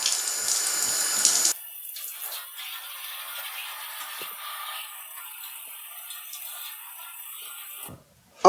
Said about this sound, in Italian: Aspettiamo che scarichi tutta l'acqua sporca.